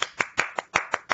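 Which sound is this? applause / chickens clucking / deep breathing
applause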